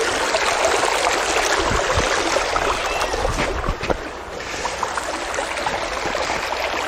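Steady broadband rush of a shallow creek flowing in the central Victorian countryside, with faint splashes and thumps from footsteps wading across it, close and continuous throughout.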